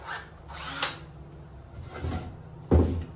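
A power drill runs in short, uneven bursts close by, drilling into antler to make a ferro rod handle, with a few knocks and clatters between them.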